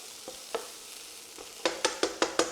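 Prawns stir-fried in a hot pan for a quick salt and pepper chilli dish, with faint sizzling and a few scattered stirring scrapes, then a run of five sharp, evenly spaced tosses or scrapes near the end.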